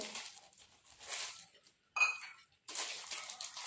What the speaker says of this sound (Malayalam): 6 കുഞ്ഞു പാത്രങ്ങളുണ്ട്.